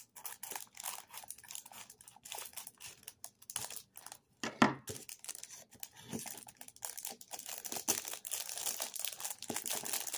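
A plastic packaging bag crinkles and rustles in quick, irregular bursts during an unboxing, with close crackling handling noises, brief pauses and one sharper crunch partway through.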